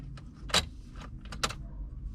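A couple of sharp mechanical clicks from a fuel pump relay in a BMW E30, about a second apart, stand out over a low idle hum.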